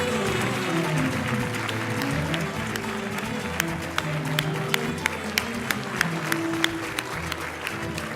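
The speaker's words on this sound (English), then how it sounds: "how about another round of applause for each of our honorees tonight" Sustained applause from a gala audience honoring award recipients, a dense even wash of clapping with a few sharper individual claps standing out, continuing steadily throughout.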